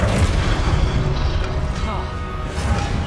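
A Flipendo spell goes off during combat in Hogwarts Legacy, a booming, crashing blast over a dense, constant din of battle effects.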